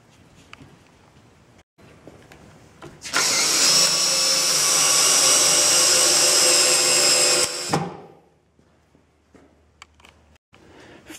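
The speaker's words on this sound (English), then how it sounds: "you will attach it by sending screws into various points until it is stable" A power drill drives screws into a wooden sawhorse leg, giving one loud, steady whirring burst of about four seconds that winds down abruptly, with quiet handling noise before and after.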